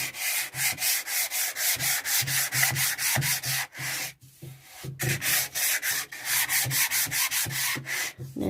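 Rhythmic back-and-forth sanding of painted wood on a DIY dog house, close and steady, with a brief pause midway before the scraping strokes resume.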